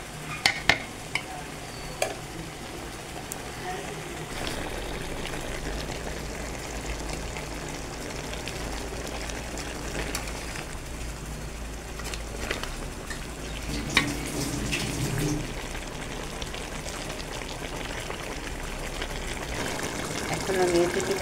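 Bottle gourd curry simmering in a pan, with soft stirring and light sizzling at a steady low level, plus a few sharp clinks of a utensil against the pan across the stretch.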